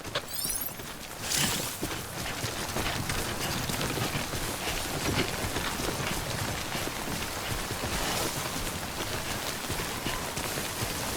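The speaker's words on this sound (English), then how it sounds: "Remember that prolonged exposure to timefall damages cargo containers. Don't stay out in the rain any longer than you have to." Timefall rain in the video game Death Stranding pours as a dense, continuous hiss of drops on surfaces, steady and fairly loud throughout with no talking.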